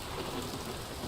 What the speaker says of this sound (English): Oh, thank God the storm is ending